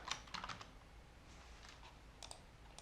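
Keyboard typing on a computer, a few quick clusters of soft key clicks near the start and scattered taps later, quiet and close.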